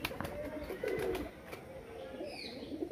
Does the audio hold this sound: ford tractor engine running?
no